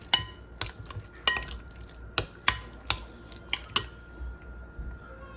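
A utensil clinks and taps against a bowl in a series of distinct, irregular strikes while softened cheeses are mixed, with a wet, sticky stirring sound between the knocks.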